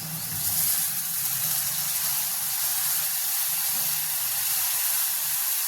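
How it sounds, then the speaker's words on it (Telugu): Tamarind juice poured into a hot pan for Telugu minapa vadiyala pulusu gives a steady, loud broadband hiss and sizzle that holds evenly throughout, with no talking. "ఇప్పుడు చింతపండు రసం వేసుకున్నా"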